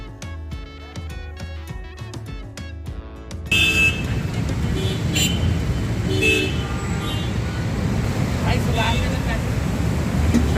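E-rickshaw ride through busy Indian road traffic, with continuous engine and road rumble, repeated horn toots from surrounding vehicles, and people talking close by.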